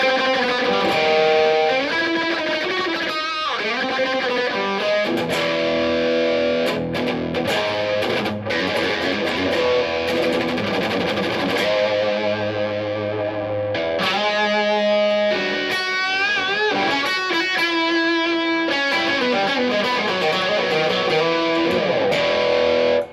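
Distorted electric guitar through a Marshall SL5 amp, playing sustained chords and riffs, loud and continuous, with a washy, reverberant tail behind the notes.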